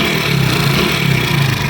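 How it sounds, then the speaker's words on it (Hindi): A Honda Pridor motorcycle engine with a fault runs close and loud, a continuous rough mechanical drone with a repeating uneven clatter, no voices. "आपकी बाइक के इंजन, ये जो आवाज़ आ रही है ना, ये देखें आप"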